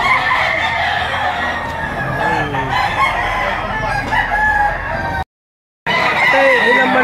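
Roosters crow loudly and repeatedly amid clucking fowl at a busy open-air chicken market in Lipa City, Batangas, with a crowded, noisy background and a brief dropout near the end.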